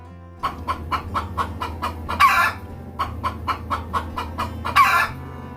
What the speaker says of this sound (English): This is chicken.